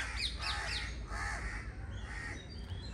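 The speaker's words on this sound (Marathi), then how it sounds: "पक्ष्यांचा आवाज काय भारी येतो आहे का, हे रोजच आहे आमच्यासाठी." Several crows caw in a forest, loud harsh calls in a quick burst near the start and another around the middle, with fainter bird calls and steady outdoor background throughout.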